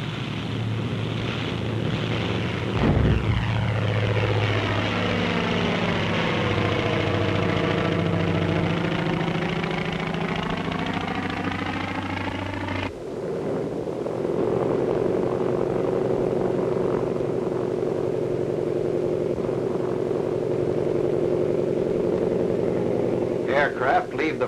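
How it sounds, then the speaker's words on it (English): Navy propeller aircraft roar off a carrier flight deck, one engine sweeping up in pitch as it passes close, then a steady droning engine continues in the background. "Aircraft leave the flight decks during extensive attacks that softened up the Central Pacific targets for amphibious operations."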